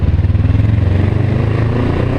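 Motorcycle being ridden on a road, its engine running steadily with a low throbbing drone, loud and close throughout with wind and road noise, no talking.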